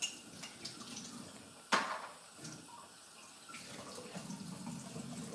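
A kitchen tap runs water into a glass, with a sharp clink of the glass against the sink partway through and light clattering of dishes in a quiet room.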